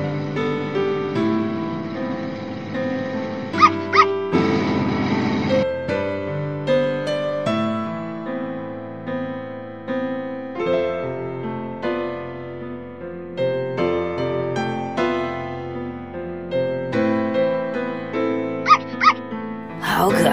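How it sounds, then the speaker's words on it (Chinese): A puppy in an animated cartoon whimpers and yips in high, wavering cries over a bed of tonal sounds, loud and close, with a couple of sharper yelps near the middle and end. "好可爱的小狗狗啊"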